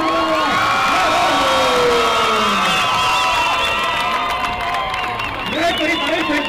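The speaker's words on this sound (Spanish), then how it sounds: "con el aplauso de ustedes queda Diana, la princesa." Crowd at a boxing event cheers, shouts and whoops loudly with some clapping as a fighter is introduced, a dense, continuous roar with voices layered on top.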